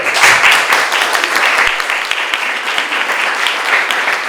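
An audience claps in welcome at a talk on minorities in Indonesia, loud, dense and sustained applause from a full room, close and steady throughout.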